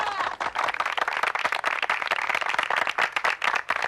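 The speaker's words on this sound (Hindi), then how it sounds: "तालियां" Dense, continuous clapping from a studio audience during a Hindi comedy show segment about a beauty contest, loud and sustained with sharp individual claps throughout.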